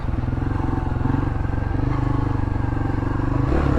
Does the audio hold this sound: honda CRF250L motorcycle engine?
yes